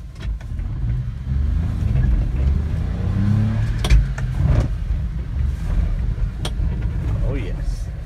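A 1992 Japanese mini truck climbs a hill in four-wheel drive, its small engine droning low and steady with clunks and bumps, while someone talks over it.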